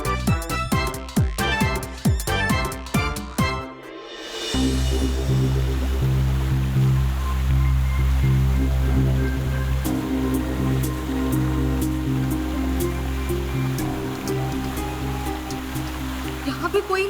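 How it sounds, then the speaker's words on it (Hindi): Loud, continuous roar of a rushing waterfall fills the scene, broad and unbroken for over twelve seconds after a brief burst of other noise at the start. "इस झरने की वजह से आवाज नहीं आ रही है।"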